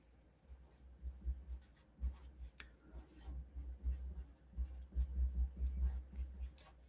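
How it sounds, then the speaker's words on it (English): Pen or pencil writing in a nature journal, a soft close scratching and scribbling in short strokes, faint overall with light taps between words. "So I'm going to write"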